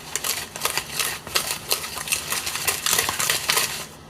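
Chicken and dumpling ingredients are stirred with sugar in a bowl, making rapid, irregular clinks and scrapes of a utensil against the dish, close and moderately loud throughout.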